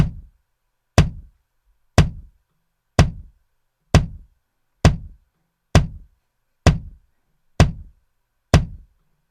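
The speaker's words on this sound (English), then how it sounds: "put a kick sound like this." A programmed kick drum hits once every two beats, ten evenly spaced punchy thumps with short decaying tails, alone and clear against silence.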